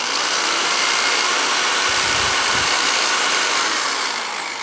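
An electric drill runs continuously at full speed, a loud, close, steady high-pitched whine with hissy motor noise that holds level and eases off slightly at the end, with no talking.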